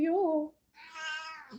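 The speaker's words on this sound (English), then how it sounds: "if you hear a cat in the background" A pet cat meows once, close and clear, during a live conversation show after a brief spoken word, with a short pause before the drawn-out meow.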